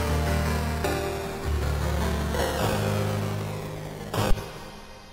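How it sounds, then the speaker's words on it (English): A piano run through a low-pass filter in an FL Studio project, its chords dark and muffled, sustained low tones changing every second or so with a brief brighter burst near the end, no voices. "the piano sounds like this"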